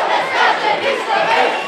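An enthusiastic crowd cheers home athletes at a championship closing and medal ceremony, a loud sustained roar of many voices swelling in waves with no break.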